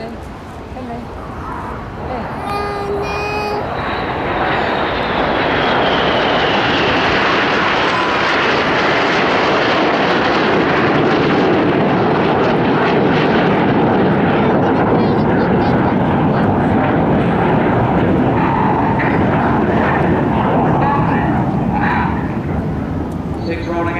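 Red Arrows jets flying a corkscrew display manoeuvre at the 2016 Bournemouth air show: a loud, sustained jet roar swells within seconds and fills the air, with a voice under the noise.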